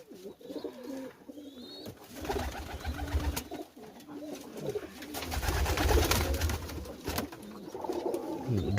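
Pigeons cooing continuously, layered soft throaty coos close by, with rustling and a few bumps as a bird arrives at its nest box.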